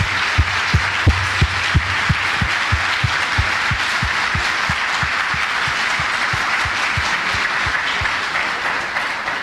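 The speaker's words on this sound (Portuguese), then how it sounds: "Pode aplaudir a Jesus" A church congregation applauds steadily throughout, dense clapping carrying on at full volume with a low rhythmic thump beneath it and no speech over it.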